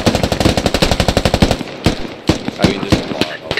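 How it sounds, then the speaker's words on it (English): Heavy enemy machine-gun fire in the Squad military shooter game: a rapid sustained burst of loud automatic shots, then a slower run of separate sharp gunshots. "we're getting enemy heavy fire."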